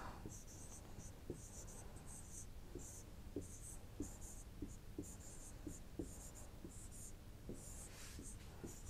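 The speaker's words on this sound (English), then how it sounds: "very quickly I will write down the query for you" A pen scratches across paper as a database query is written out by hand, with quick rhythmic strokes and taps, close and faint, alongside a steady background hiss.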